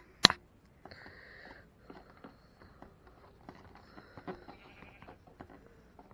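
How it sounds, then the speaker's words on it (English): Faint game-style sheep bleats in Minecraft, a few short calls spread out, over soft clicking and footstep-like taps after a sharp click at the start. "I can hear sheep."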